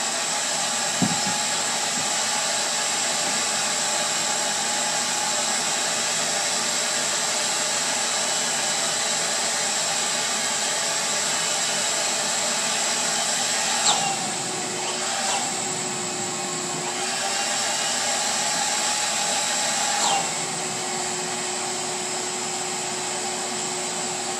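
A vacuum pump runs steadily while Kydex is vacuum molded, a constant whirring hiss held throughout with a few faint clicks and knocks on top, and no talking.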